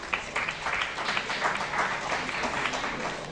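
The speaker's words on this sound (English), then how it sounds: "A big round of applause." Audience applause at a horticulture conference award ceremony at a university, steady dense clapping from a crowd filling the whole stretch at moderate loudness, with no voices over it.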